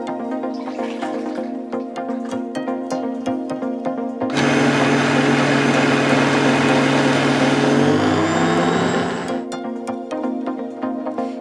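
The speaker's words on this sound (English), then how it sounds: "The OmniBlend can whip cream." A JTC OmniBlend blender whips cream, whirring loudly and steadily for about five seconds, its pitch shifting near the end before it stops, with background music throughout.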